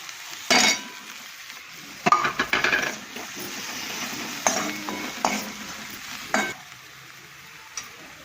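Green garlic roasts in a pan, crackling with a soft sizzle under bursts of scraping and clattering from the spatula against the pan, some sharp and loud, then quieter stirring toward the end.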